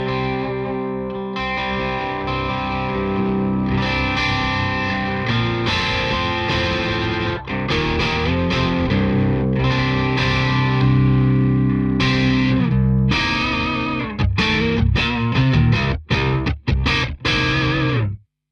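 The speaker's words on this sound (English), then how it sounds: "So that's the sound of the guitar on its own" A PRS electric guitar played through two Victory Kraken amps in stereo rings out with sustained distorted chords, then ends in a run of choppy, stabbing staccato hits before cutting off.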